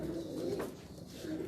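Breeder pigeons cooing in a breeding setup, soft low rolling coos repeating a few times close by at fairly low level, with no talk over them.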